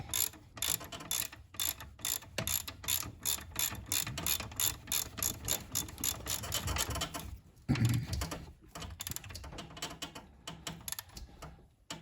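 Ratchet tightening a dual pulley belt setup on a Mazda RX7 rotary engine, a steady run of quick, close clicks with a brief pause and a clunk near the middle before the clicking resumes.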